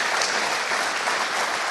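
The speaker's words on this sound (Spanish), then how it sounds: "Denle un aplauso al Señor, gloria a Dios." A church congregation claps for a sustained moment, dense and steady applause filling the room without pause.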